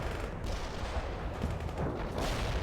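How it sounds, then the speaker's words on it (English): Gunfire and artillery fire from the World in Conflict: Soviet Assault war game, a dense, continuous battle din of shots and booms with low rumbling impacts throughout, loud and without pause. "They're firing at us."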